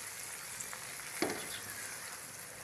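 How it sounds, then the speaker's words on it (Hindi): Green peas and tomato frying in a pan for an egg and pea curry: a soft, steady sizzle with one brief clink of stirring partway through, no talking. "अब इसको 2 से 3 मिनट तक फ्राई कर लेंगे।"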